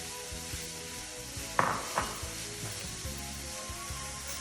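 Smoked meat, sausage and seasonings for Brazilian feijoada sizzle in a pot as they are stirred, a steady hiss broken by a couple of sharp scraping clinks of the utensil near the middle; no talking.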